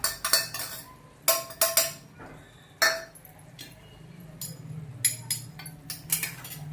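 A spatula clinks sharply against a pan as grated paneer is mixed into hot oil and butter, with bursts of metallic scraping and clatter separated by quieter pauses.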